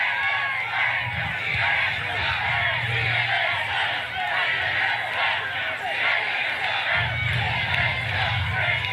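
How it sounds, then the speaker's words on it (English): A large crowd at a Trump rally in Florida screaming and shouting together, a loud continuous roar of many voices that swells and dips, close and filling the whole space. "What are these people screaming?"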